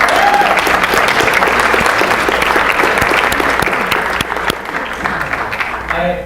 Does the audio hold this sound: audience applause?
yes